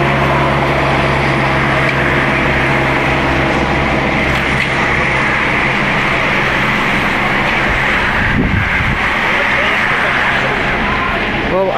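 Strong wind buffets the microphone with a constant roar at a roadside stage of the Tour de Pologne cycling race, and a vehicle rumbles past partway through.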